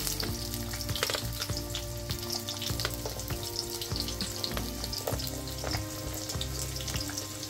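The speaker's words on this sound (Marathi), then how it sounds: "तेल गरम झाले, आता त्याच्यामध्ये एक छोटा चमचा जिरं आणि एक छोटा मीडियम आकाराचा कांदा उभा कापून घेतलाय मी, तो टाकायचा" Cumin seeds and a sliced medium onion frying in hot oil for a Marathi chutney, a continuous dense sizzle close by with crisp crackles and occasional spatula scrapes, no talking.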